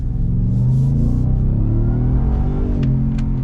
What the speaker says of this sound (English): Initial driving impressions of the Raptor R.